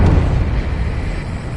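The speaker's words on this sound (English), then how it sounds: "A huge explosion just went off underwater." A huge underwater explosion in the Ace Combat 7 video game, a loud deep rumbling boom that sustains with heavy low-end roar across the whole moment, with no talking.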